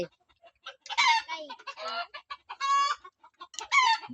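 Chickens cluck close by in a rural Thai household, giving several loud, separate bursts of clucking and throaty calls with short quiet gaps between them.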